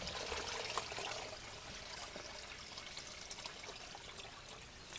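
Lake water is poured into a Platypus GravityWorks filter bag outdoors, a soft continuous trickling and splashing at close range with no talking.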